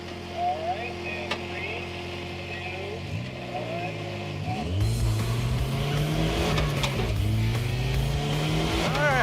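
A 1975 AMC Gremlin on a race track idles with a low rumble, then its engine roars up loudly and accelerates hard through the gears, pitch rising and falling in close, powerful sweeps.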